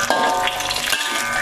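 Sambal ingredients fry in a pan with a loud, dense, crackling sizzle that runs without a break. It is close up, with no voices.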